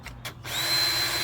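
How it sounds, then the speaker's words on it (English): A power drill set to low speed bores into metal during a boat bimini top installation, a couple of brief stuttering bursts and then a steady close whine with a thin high metallic tone. "when you're drilling through metal"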